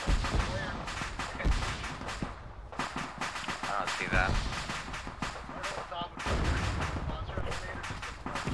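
Ammunition cooking off in the Arma 3 military game: a rapid, irregular string of sharp bangs and crackling pops, loud and continuous, under brief player voice chat.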